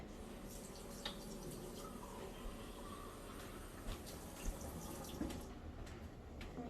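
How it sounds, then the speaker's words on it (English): Water is poured into a can, filling it about halfway, making a steady, faint splashing stream with scattered drips throughout and no talk over it. "we fill the can about halfway with water"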